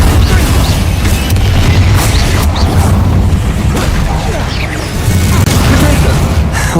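Confringo spell explosions in the Hogwarts Legacy video game, loud rumbling booms and bursts that roll on continuously over a dense, noisy game soundscape.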